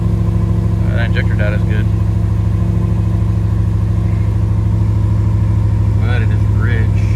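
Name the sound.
car engine idling with new injectors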